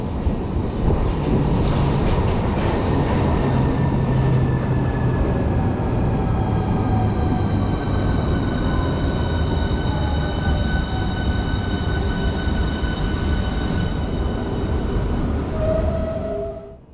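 Southeastern Class 375 electric train pulling into a station, a steady loud rumble of wheels and motors with drawn-out whining tones and squealing brakes that fade as it slows to a stop.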